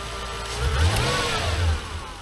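A V8 engine hooked up to crank a worn-out project car in a garage revs up briefly with a low rumbling surge, loud and close, then settles back.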